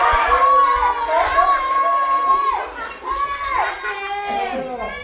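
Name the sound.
children shouting at a birthday party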